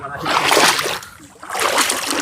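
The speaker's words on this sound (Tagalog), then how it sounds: "Tawid tayo dito sa ilog." Water splashing and sloshing as people wade across a river, in broad bursts with a brief lull in the middle.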